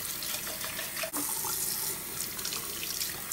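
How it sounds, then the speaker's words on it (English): Tap water runs steadily into a sink while papers are rinsed under it, a continuous close hiss with a brief splash shift partway through. "Now I'm at the sink. And we're just going to rinse our papers out thoroughly."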